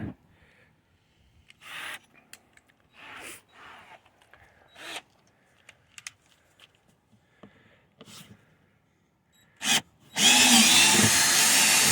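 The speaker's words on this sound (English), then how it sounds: "that's basically what you got to do to drill the holes" A power drill bores holes on a Kawasaki Vulcan 900 motorcycle in short bursts amid handling noises, then a loud, sustained grinding drill run closes out the clip.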